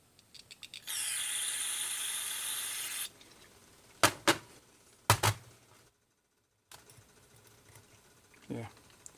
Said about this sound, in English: so I'm going to spray some carb clean and help loosen it up.